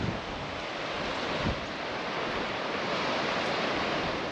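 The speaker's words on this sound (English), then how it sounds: "The ocean's so rough." Rough ocean surf pounding a remote stretch of Western Australia's south coast, a continuous broadband roar of breaking waves with gusty wind noise on the microphone, steady and loud throughout with no talking.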